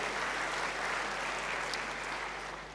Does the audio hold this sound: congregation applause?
yes